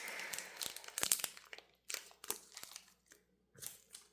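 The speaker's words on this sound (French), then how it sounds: "Oh mince, ça se déchire encore." A Pokémon booster pack wrapper is torn open, with crinkling foil and short ripping bursts. The sounds come in several quick, close, soft spurts separated by brief pauses, with no talking.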